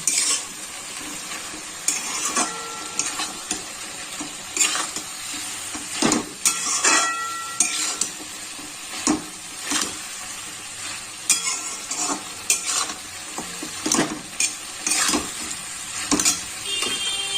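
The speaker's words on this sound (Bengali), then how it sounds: "এবার ভালো করে সব কিছু মিশিয়ে নেব মশলাটা" Chicken with masala, chilli powder and salt is stirred in a frying pan: repeated metallic scrapes and clacks of a spatula against the pan recur every second or so over a low sizzle, close and with no speech.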